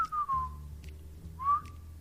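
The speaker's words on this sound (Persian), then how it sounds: "دوستان من با لب بزرگ نمیتونی سوت بزنی" Person whistling with pursed lips, two clear pitched notes that each slide downward, the second after a short pause, close and fairly quiet over a low background hum.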